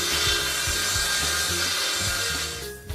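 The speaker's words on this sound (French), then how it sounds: "Prendre votre lame côté languette. Reportez les mesures, puis découpez." A parquet floorboard plank being cut on its tongue side, with rapid, steady saw strokes grinding through the wood close by, loud and continuous before tapering off at the end.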